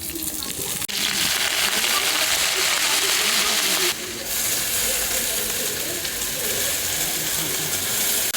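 Pumpkin greens tipped into a pan of frying potatoes, a loud continuous hiss and sizzle that surges abruptly twice as the leaves hit the hot oil, close and steady.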